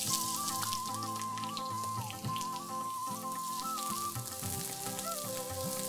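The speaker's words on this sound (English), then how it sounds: "I'm going to cook these onions till they are nice and brown." Chopped onions frying in hot oil with cinnamon and cloves give off a steady, close sizzle that runs the whole time beneath tonal background music.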